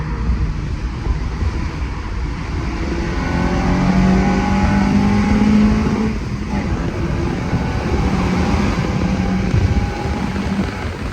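Honda Civic engine with a K-Tuned 3.5 intake revving hard through VTEC, a loud, sustained roar that rises and holds during a test drive, with steady road and wind noise underneath.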